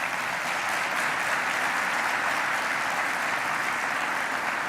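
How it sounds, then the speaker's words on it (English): Steady, sustained applause from a large audience at a New York governor's announcement event with Micron, filling the whole stretch evenly without any talking. "that deserves a round of applause right there"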